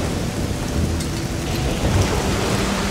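Steady heavy rain pours during a thunderstorm in the Risen 2 video game, a dense continuous roar with low rumbling thunder underneath, loud and unbroken throughout.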